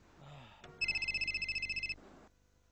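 A telephone rings indoors with a rapid trilling bell burst lasting about a second, loud and close, preceded by brief quiet talk in a drama scene.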